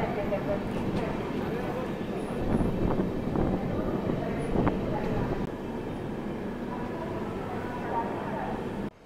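An express train, the Sealdah Bikaner Duronto, runs alongside a goods train, giving a steady loud rumble of wheels and carriages that swells slightly midway and holds until an abrupt cut at the end.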